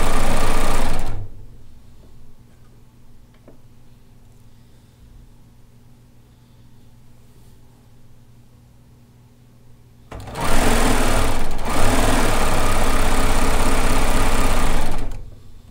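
A serger sews a seam on a kimono: a loud burst of fast stitching opens, then a long quiet pause with faint room noise before the machine roars back in a sustained, steady run near the end.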